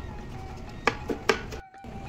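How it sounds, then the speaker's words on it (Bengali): A knife finely chopping a tomato on a board, a few quick soft taps clustered within half a second over faint kitchen background. "টমেটোটাকে ঠিক একই রকমভাবে মিহি করে কুচিয়ে নেব।"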